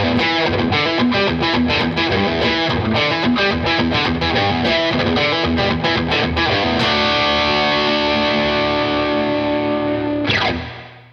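Electric guitar through a Klon Centaur overdrive pedal, strummed chords in a driving rhythm for several seconds, then a long sustained ringing chord, with a final strum near the end.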